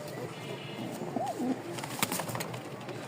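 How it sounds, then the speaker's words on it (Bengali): Several pigeons, white and black pairs kept in a loft in Rajshahi, give soft low cooing calls that swell and fade over steady background noise, with a few sharper clicks and knocks nearby. "এখানে দুই জোড়া কবুতর আছে।"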